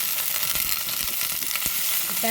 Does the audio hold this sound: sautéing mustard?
yes